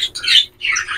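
Harsh, high-pitched bird squawks in two quick bursts, close and loud, with a shrill screeching quality typical of parakeets.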